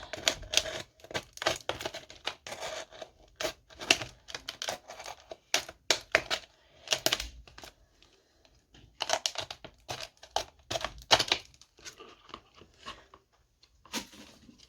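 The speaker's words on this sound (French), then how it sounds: "on va venir découper notre bouteille comme ceci" Plastic bottle being cut into a vase, a long run of quick crisp clicking snips and crinkles in uneven bursts with short pauses, close and fairly quiet with no talking.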